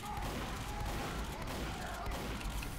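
Team Fortress 2 Heavy's shotgun and surrounding gunfire crackle in a dense, steady barrage, fairly quiet overall with shots blending into continuous battle noise.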